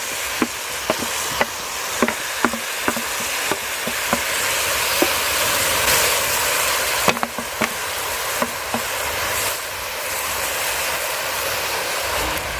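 Carrots, green pepper, onions and tomatoes fry in a pan with a steady, hissing sizzle. Regular light taps and scrapes of stirring punctuate it throughout.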